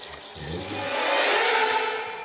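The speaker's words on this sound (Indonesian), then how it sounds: "ia mendengar suara keran, padahal tidak ada orang lain di dalam toilet" Water from an office toilet sink tap runs as a steady broadband hiss that swells gradually and holds, with a slight echoey restroom feel and no talking.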